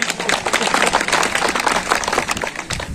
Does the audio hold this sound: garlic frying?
no